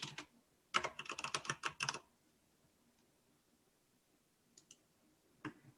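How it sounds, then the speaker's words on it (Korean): Quick bursts of computer keyboard typing, a rapid run of close, crisp clicks followed by a pause and a few scattered keystrokes, with no talking. "여기를 클릭해서 지우고 아이들 이렇게 써주면"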